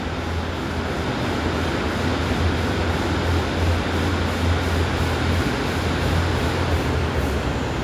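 A Northern DMU pair of Class 150 and 156 units rumbling past at Liverpool Lime Street station, a steady drone of diesel engine and wheels with no clear break, close and continuous.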